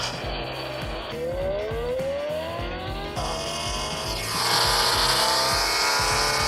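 A smartphone's playful cooling-fan start effect resembles a race car: a roaring engine with rising revs and tire-squeal sweeps builds louder toward the end, dense and continuous, with no speech.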